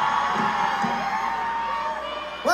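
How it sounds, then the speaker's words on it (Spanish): Concert crowd in Guadalajara at a show cheering and whooping loudly, a dense continuous roar of voices with shouts rising over it, a fresh burst swelling at the very end. "Gracias por esos aplausos"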